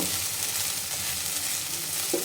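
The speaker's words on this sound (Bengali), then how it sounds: "এই যে গাজর আর আলু ভাজি হয়ে গিয়েছে, আমি এখন নামিয়ে নেব।" Carrots and potatoes fry in a pan, a dense, close, continuous sizzle with faint stirring movement and a small knock near the end.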